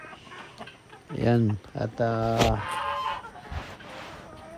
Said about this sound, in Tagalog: ang pagpapakain ng manok